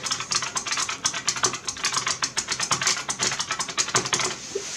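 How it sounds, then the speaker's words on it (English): Rapid, clacky keystrokes on a loud buckling spring mechanical keyboard, a fast continuous burst of typing heard up close. "it can get quite loud when you're typing on it"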